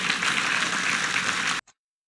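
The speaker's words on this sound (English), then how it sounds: "Give the Lord a hand clap for that." A church congregation claps steadily as one dense, even wash of hand claps, moderately loud, before it cuts off abruptly into silence.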